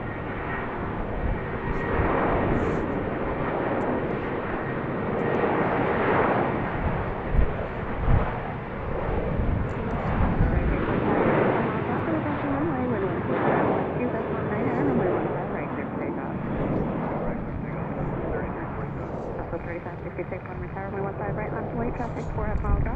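Airliner taxiing out for departure at Baltimore-Washington International Airport, a loud, steady engine roar filling the whole stretch, with outdoor background noise and no clear break.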